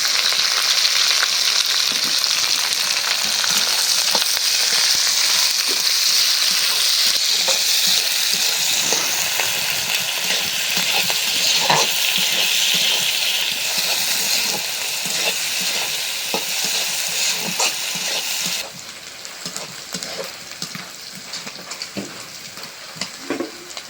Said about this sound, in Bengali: মরিচগুলি একটু কড়া করে ভেজে নিলাম